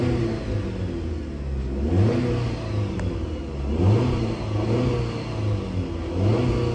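A 2009 Jeep Patriot with a 2.4-liter four-cylinder engine revs up and down repeatedly from idle, loud and close, with no one speaking over it.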